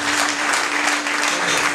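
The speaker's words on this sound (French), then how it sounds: "Est-ce qu'on peut manifester par les acclamations?" An audience at a gathering bursts into steady, dense applause, many hands clapping together loudly and evenly for the whole brief stretch.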